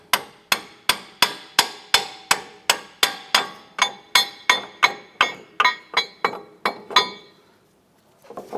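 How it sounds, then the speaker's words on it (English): A hammer strikes a strut clevis fork on a 2004-2008 Acura TL front strut assembly about fifteen times in a steady, even rhythm, each blow ringing bright and close, then the hits stop and it goes quiet. "we're just going to go ahead and strike the clevis fork and pop that down"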